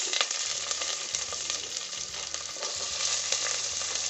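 Capsicum, garlic, red chilli, curry leaves and onion quick stir-fried for an egg idli stir fry, a dense continuous sizzle with rapid spatula scraping and low rhythmic pan knocks, close-up and steady with no voices.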